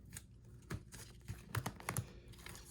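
A deck of tarot cards is cut and handled, giving soft, close clicks and papery snaps in a short irregular cluster, fairly faint and without talk.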